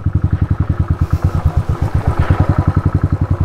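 A motorcycle engine runs close by in a steady, loud chugging rhythm of regular pulses, with no talk over it.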